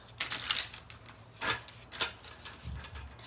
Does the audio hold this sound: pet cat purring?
no